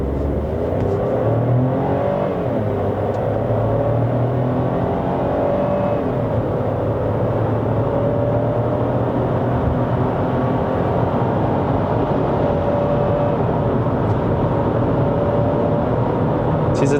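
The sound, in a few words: Proton X70 facelift accelerating hard in Sport mode launch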